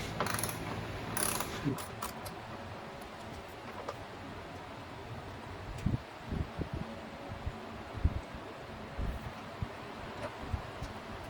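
A T27 Torx driver backs inner screws out of a Harley-Davidson motorcycle's trim, giving a faint run of ratcheting clicks and small metallic ticks, with a few sharper taps near the end and no talking.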